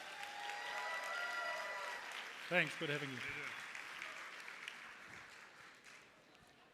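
An event audience at a sourcing conference applauds for Rio Ferdinand with a moderate, steady clapping bed, while someone briefly speaks over it midway before the applause fades.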